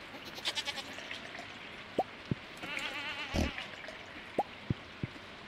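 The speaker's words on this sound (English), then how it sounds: "it is time for the goats to give milk." Goats bleat in the farming video game Stardew Valley, several short nasal calls spaced across the scene, mixed with soft plinking game effects and no speech.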